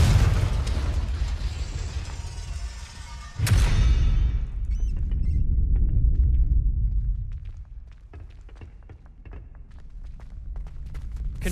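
A Confringo blasting spell explodes in a Harry Potter video game, a loud rumbling boom with a sharp burst partway through that swells and then fades into lower rumble and scattered debris clicks.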